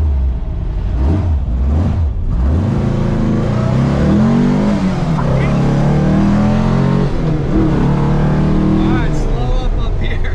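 A 1968 Chevy Camaro with a stiff clutch being driven, its engine droning loudly and rising and falling through revs with gear changes, heard from inside the car with people talking over it.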